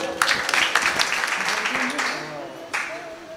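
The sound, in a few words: audience clapping during a kirtan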